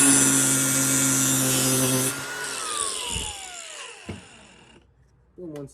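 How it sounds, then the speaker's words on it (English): An angle grinder cuts off long screws, a loud, close, high-pitched whine that winds down after about two seconds, followed by a few clacks and then a short renewed burst. "you're just going to take your angle grinder and chop those off"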